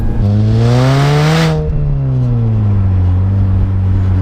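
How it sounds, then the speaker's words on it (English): A modified 220 BHP Mini Cooper S lets out a loud supercharger whine, the pitch rising under acceleration and then easing down, layered over engine roar and steady up close. "the supercharger whine is awesome"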